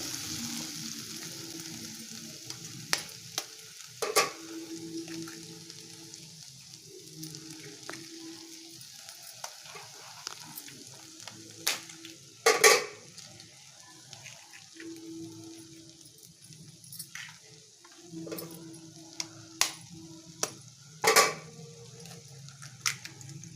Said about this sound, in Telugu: ఇప్పుడు ఇందులో మనము ఎగ్గు కొట్టు పోసుకుందామండి